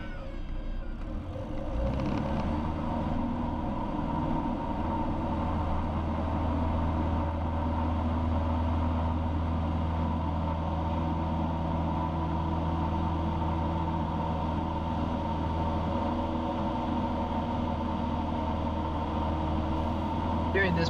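A small training aircraft engine is pulled back to idle for a power-off stall and settles into a steady, low, continuous drone that fills the cabin while a voice speaks over it.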